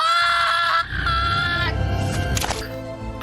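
A high, strained cry with strong harmonics, a woman screaming loudly for about a second, then breaking into shorter wavering wails over background noise.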